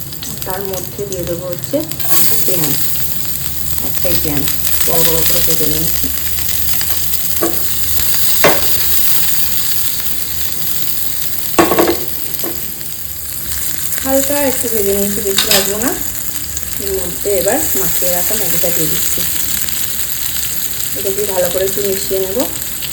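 Garlic tempering sizzles steadily in hot oil in a home kitchen, a continuous loud frying hiss with stirring clatter, while a person talks intermittently over it.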